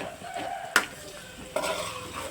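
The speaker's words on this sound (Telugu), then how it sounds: "అది మగ్గిన దాకా కొంచెం సిమ్లోనే ఉంచి తిప్పాలండి" Ginger masala stirred in a pan on a low gas flame for a village fish curry: two sharp scrapes of a spoon against the pan over a soft, steady sizzle, with no talking.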